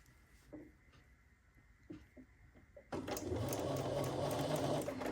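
A sewing machine stitches a quilt block: a few soft taps and handling sounds in near quiet, then the motor kicks in abruptly and runs in a steady, close whir to the end.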